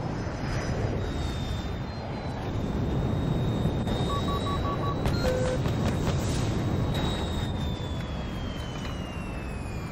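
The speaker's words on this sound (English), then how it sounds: "in a Battlefield top plays, we're gonna need some sick jet clips" A fighter jet flies in the video game Battlefield, its engine a continuous loud roar with a whining tone that rises and falls, plus a few brief beeping alert tones partway through.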